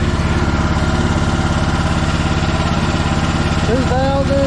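A Chinese mini excavator's small diesel engine runs steadily just above idle at about 2100 RPM, a close, even mechanical chug with a faint rising whine near the end.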